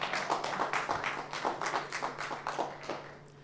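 A conference hall full of people clapping, a steady patter of applause at moderate distance that gradually thins out toward the end.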